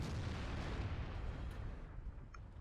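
Heavy tank cannon fire in World of Tanks, a loud, sustained broadband boom and rumble that fills the whole clip and tapers slightly near the end, with no talk.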